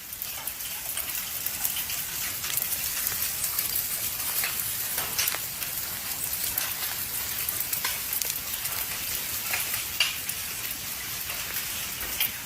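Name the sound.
rocks raining down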